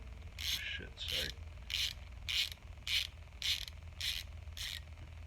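A nut is wound onto a fitting while repairing a Porter Cable pancake compressor, giving seven or eight evenly spaced ratcheting clicks, close and fairly quiet, over a low steady hum.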